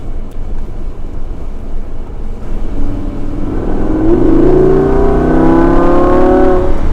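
Engine of a 2017 Lamborghini Huracan Spyder rising into a loud, strong rev heard from inside the car, climbing steadily in pitch after a quieter idle rumble, with no talking.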